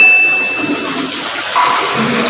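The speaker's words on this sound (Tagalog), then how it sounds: "Butangan na og tubig." Water gushing into a slaughterhouse scalding tank in Talisay, Cebu, a loud, close, continuous rush and splash lasting a couple of seconds with a brief surge near the end.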